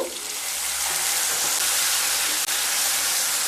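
A splash of water hits mustard paste and ground spices frying in a pan, setting off a loud, continuous broadband hiss of steam and sizzle that holds steady for several seconds with one brief break.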